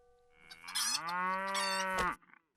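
A single long, drawn-out cow moo rises and holds steady for about a second and a half, then cuts off. It is clear and close, with no voices.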